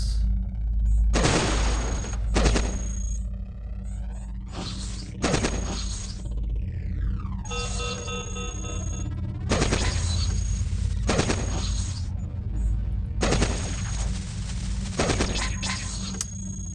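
Assault rifle fire in the robot combat game Cogmind comes in repeated loud, clustered volleys of rapid shots, separated by brief gaps filled with electronic whirs and sweeping synthetic tones.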